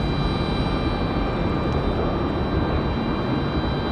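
A Delta airliner landing at Raleigh-Durham airport, heard as a steady broadband jet roar that holds at an even level throughout, distant and unbroken, with no voices.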